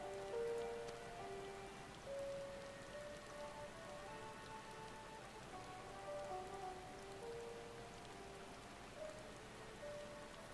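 Rain falls steadily in the video game Final Fantasy XIV: Endwalker in cold, windswept terrain, a soft continuous patter that holds at an even level throughout, while faint tonal sounds drift in and out.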